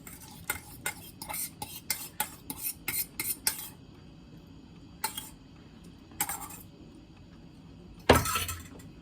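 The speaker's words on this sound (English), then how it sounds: "I'm gonna mix it up nicely, and we'll see how it turns out." Bread ingredients are mixed in a bowl: a quick run of clinking utensil strokes against the bowl, then a pause, two more scraping stirs, and a final louder clatter, all close and with no talking.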